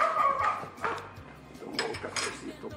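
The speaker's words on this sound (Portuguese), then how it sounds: "Cachorro." A dog barks in short, repeated yelps and woofs at moderate distance, loose and uneven in rhythm, with some background noise between barks.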